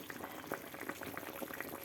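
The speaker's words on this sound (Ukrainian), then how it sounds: "Подивіться, як гарно кипить." A pot of lecho bubbles at a steady rolling boil, with thick, continuous popping and gurgling close by.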